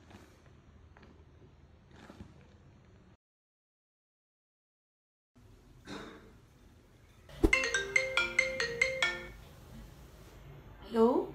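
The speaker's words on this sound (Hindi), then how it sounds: "यार उठा लो यार फोन।" A phone ringtone sounds during a call, loud, rhythmic and melodic, after quieter stretches of talk and a brief silent gap, with a voice speaking around it.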